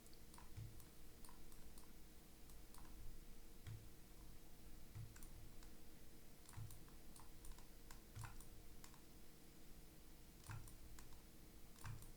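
Single keys pressed on a computer keyboard during 3D sculpting work, faint, evenly spaced clicks repeating every second or so over quiet room hiss, with no one talking.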